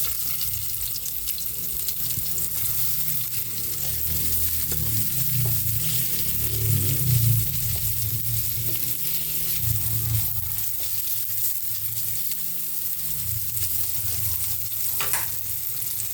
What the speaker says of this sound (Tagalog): Magigisa na po tayo para sa ating sarsyadong kamatis sa usawa ng ating isda.